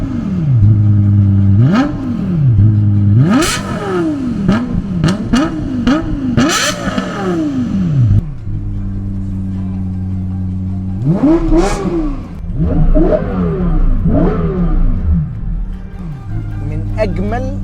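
Lexus LFA with its high-revving V10 from 2010, blipped repeatedly in sharp rising and falling sweeps, loud and close, with short pauses between bursts and a steadier idle-like stretch midway.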